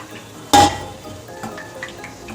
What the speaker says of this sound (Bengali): আমার কিন্তু চিকেন বলগুলো ভাজা হয়ে গেছে, এই দেখুন। এর বেশি ভাজবো না, এইভাবে করে ভেজে নেব সব।